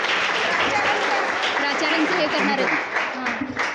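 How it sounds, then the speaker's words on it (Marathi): An audience claps steadily through a felicitation ceremony at a college science club's Einstein birthday event, with a voice speaking over the applause. "मुळात टाळ्या वाजवणं थांबवूच नका."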